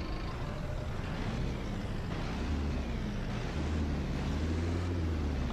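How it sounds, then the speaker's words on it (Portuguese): Marcopolo Senior MB LO-916 city bus in Proton Bus Simulator, diesel engine rumbling and rising in a low, steady drone, near and continuous with no talk. "Vamos dar só leve aceleradinha aqui no busão."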